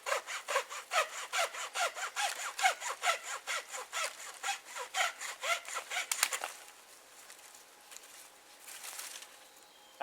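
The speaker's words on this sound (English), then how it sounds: "That should be our mini bucksaw." A small buck saw cuts through wood in quick, rhythmic back-and-forth strokes, close and crisp, for about six seconds before falling quiet.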